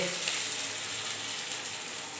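Dough mixture sautéing in a little oil in a kadai over a low flame, a steady close sizzle and crackle with faint stirring texture, continuous and even throughout.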